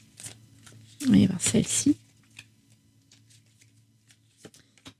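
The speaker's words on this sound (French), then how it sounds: "Je vais tirer 3 cartes pour avoir une vue d'ensemble." Tarot cards being drawn and handled at close range, a burst of rustling and shuffling snaps followed by a few faint taps, while someone speaks French.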